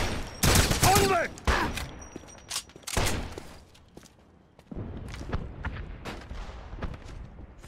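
Gunfire crackles in a crossfire in the video game Wolfenstein, with rapid shots in dense bursts, thuds and footsteps, loud and close, then a steadier stretch of action.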